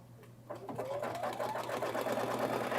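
An embroidery machine runs steadily as it stitches a tack-down basting line holding layers in place, with rapid even needle clatter that is close and continuous.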